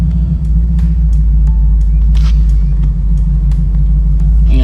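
A 1979 Chevrolet Camaro Z28 with a Summit torque converter of about 3500 stall and a limited-slip rear end is driving. A loud, steady, deep engine and road rumble runs throughout, with a few faint ticks on top.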